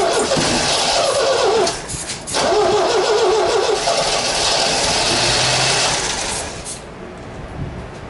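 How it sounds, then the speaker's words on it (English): A 1974 MGB GT engine cranks and then catches, a loud rough whirring crank that breaks into sputtering revs, close up, fading lower near the end. "when you hear it starting to get that rev sound"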